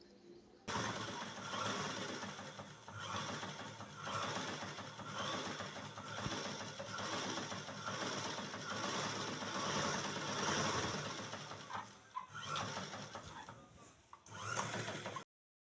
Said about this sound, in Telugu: దానికి ఫ్రంట్ బ్యాక్కి స్టిచ్ చేసేసుకోవాలి.